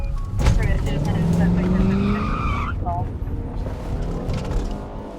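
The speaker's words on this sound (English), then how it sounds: "Y'all hear those tires? They're squealing." Car tires squealing in a city street at night during a news crew's patrol, a loud rising screech of rubber that slides upward in pitch and then cuts off, with a voice talking over it.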